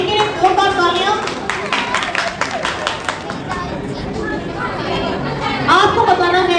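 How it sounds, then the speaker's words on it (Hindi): Clapping from an audience at a Jain religious game show, irregular and somewhat sparse, mixed with crowd chatter and voices throughout. "चलिए इनके लिए जोरदार तालियां।"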